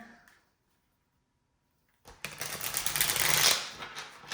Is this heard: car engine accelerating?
no